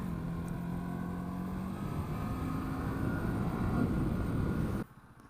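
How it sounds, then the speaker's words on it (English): A motorcycle engine braking with a rider and pillion aboard, heard as a steady droning engine and wind rumble that swells a little before cutting off abruptly near the end. "Engine braking."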